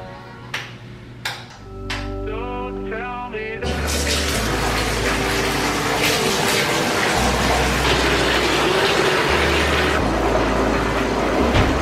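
A bathtub filling from the tap for a bath, heard as a strong, steady rush of running water that sets in after a few clunks and a brief trickle, then goes on loud and close.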